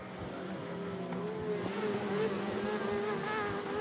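Racing sidecar outfits powering down the track at a sidecar road race, high-revving engines whining and rising in pitch as they pass, loud and continuous with some wind.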